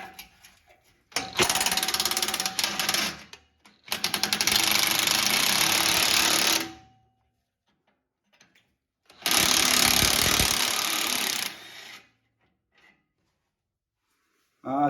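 A power tool works loose transmission bolts on a 2007-2021 Toyota Tundra, running in three loud, sustained bursts of several seconds each separated by near-silent pauses, with a final burst starting at the end.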